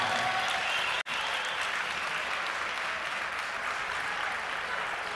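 Arena crowd applauding steadily as a junior boxer representing Armenia approaches the ring at a world championship bout in Yerevan, a broad continuous wash of clapping with a brief sharp dropout near the start.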